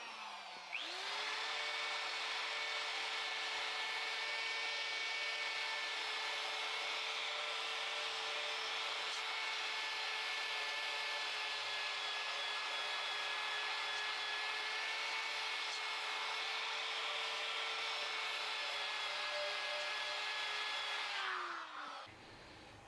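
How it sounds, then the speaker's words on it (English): A 3/8-inch electric drill whirs steadily with a sanding flap wheel grinding against metal, a continuous high-pitched hum that winds down at the end. "I've got a sandpaper flapper wheel on my 3/8 drill."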